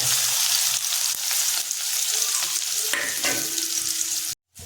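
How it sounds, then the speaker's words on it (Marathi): Loud, dense hissing sizzle of onion and chilli frying in oil in a kadhai, close up and continuous, with occasional stirring, cutting off abruptly at the end. "आता आपण कांदा मिरची तेलात टाकूया।"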